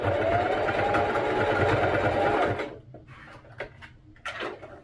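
A home sewing machine runs in a steady mechanical whir while stitching fabric for a skirt, then stops abruptly, leaving a few light clicks and handling knocks close by.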